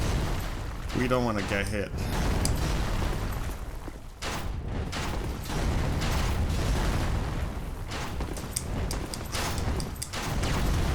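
Enemy knight fire in Dark Souls 3 lands as repeated booming blasts and bursts over a low rumbling game soundscape, while someone talks briefly partway through.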